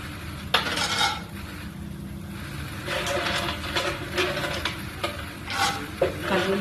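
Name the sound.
peanuts frying and stirred in hot oil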